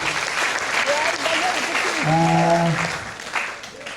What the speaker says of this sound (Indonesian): Tepuk tangan untuk Yesus dulu.